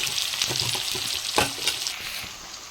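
Onions frying in oil with cumin and mustard seeds give a close, busy sizzle with repeated stirring scrapes and one sharper spatula knock midway, and no one talking.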